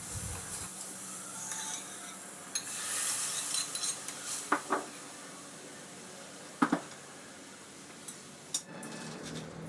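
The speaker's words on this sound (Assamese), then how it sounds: "এতিয়া দালি তেল মাৰি আছোঁ" Oil hisses steadily in a pan while dal is being tempered, a soft continuous sizzle broken by occasional clinks of a utensil against the pot.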